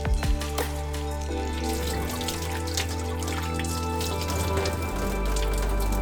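Steady rain falls outside a mountain refuge, a constant hiss with scattered drop patters, mixed with a low background hum and faint tonal sounds, continuing without talk.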